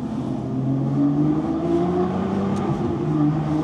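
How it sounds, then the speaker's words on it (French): An Aston Martin V12 Vantage S holds its V12 at about 3000 rpm, a deep steady hum that resonates close by without a sharp rise or drop. "là, mets un peu de gaz à 3000 tours"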